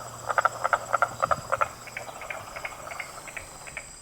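A carpenter frog calls in a wetland: a rapid series of sharp, woody knocking notes in quick pairs, fairly close, fading into a softer trailing run over a faint insect hum.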